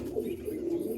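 A red-veined Giribaz pigeon gives a single brief, low, soft coo, faint and close, with no other sound around it.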